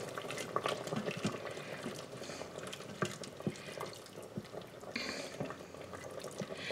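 Gravy thickened with cornstarch bubbles in an Instant Pot, making a soft, continuous simmering and popping texture. It is faint and close, with a few small clinks scattered through.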